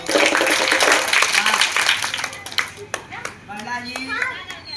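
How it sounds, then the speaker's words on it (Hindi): Children clap at a traditional village monkey show, giving a quick burst of scattered hand claps mixed with children's voices that fades into sparse claps and chatter. "अब सारे बच्चे ताली बजा रहे"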